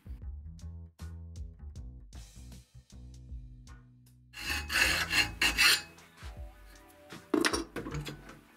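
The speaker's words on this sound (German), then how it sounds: "Den Rest kann man feilen." A metal part is hand-filed to clean up a slot during a workshop build of an adjustable table for a K40 laser cutter, with bursts of rasping strokes in the middle stretch and quieter scraping around them.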